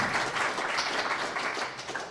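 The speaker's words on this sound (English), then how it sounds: "I'm going to give you all a clap." Clapping at a book reading event: a brief burst of many hands clapping together, dense and steady, fairly close, tailing off slightly at the end.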